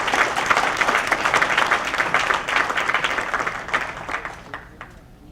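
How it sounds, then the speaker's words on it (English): A roomful of people at a city council meeting applauds young winning artists, with loud, dense clapping that thins out and fades toward the end. "Let's give them a round of applause again."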